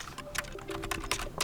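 Rapid typing on a computer keyboard while a web address is entered, a quick run of close, crisp keystrokes at an even pace with no talking.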